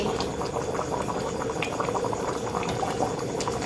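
Cassava pieces boil in sugar syrup for a Thai candied-cassava dessert, giving a steady, dense bubbling and simmering hiss that runs without pause, fairly close, with no talking.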